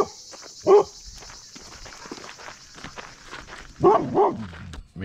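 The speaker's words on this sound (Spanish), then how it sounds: "Perros." Dogs bark a few times at a distance outdoors near the truncated pyramid of Montserrat: one short bark early, then two more close together near the end, over a faint steady insect-like hiss.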